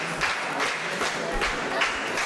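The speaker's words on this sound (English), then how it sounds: "Crowd getting solely behind the match now." Crowd at an independent wrestling championship match clapping in rhythmic bursts and cheering, a steady mid-level roar of applause with a few voices mixed in.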